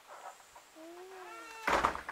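A single drawn-out cat meow, rising then falling, followed by a brief louder burst of noise; faint background sounds before it.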